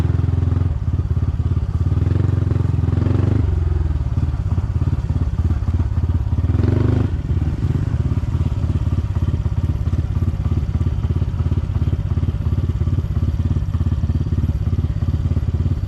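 A Honda CT125 motorcycle ridden off-road, its engine a steady close chugging putter throughout, with clattering bumps from rough ground.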